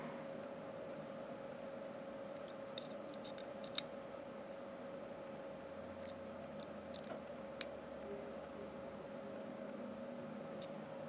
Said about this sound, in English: Got this new wire cutter thing. A little bit easier than nail clippers or twisting them off.